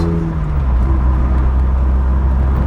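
A 1984 Vauxhall Cavalier mk2 drives on a test run, its engine a steady, loud low drone heard from inside the cabin, with a brief gear-change dip near the start and no talk.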